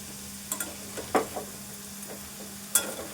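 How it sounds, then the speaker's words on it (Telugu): Potato pieces fry in a pan until golden, with a low sizzle under a steady hum and a few sharp stirring scrapes and clinks spaced across the few seconds. "గోల్డ్ కలర్ వచ్చేదాకా వేపుకోవాలి."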